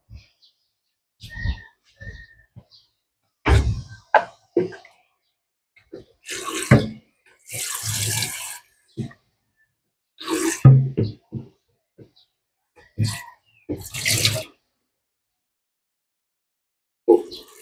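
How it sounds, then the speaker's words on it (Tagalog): Water running from a tap to fill drinkers for young chicks, coming in separate bursts of splashing and pouring with pauses between, close by and moderately loud. "So, at patubigan na rin natin yung mga ating mga sisiu, no?"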